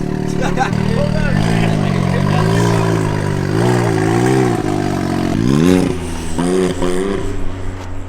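A tuned truck engine revs hard and rises and falls in pitch several times, loud and close, with voices talking over it.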